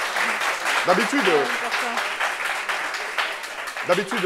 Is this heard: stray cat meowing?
no